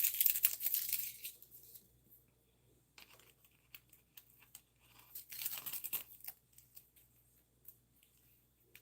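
Thin sticker backing paper tearing in a craft session for a mini album, two bursts of crisp ripping near the start and middle with light rustling between, close and fairly quiet.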